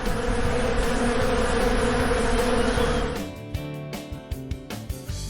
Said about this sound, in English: Say hello to our buzzing bees.